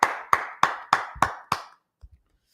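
Six sharp, evenly spaced claps in a class setting, fairly close and slightly reverberant, followed by a couple of faint soft knocks.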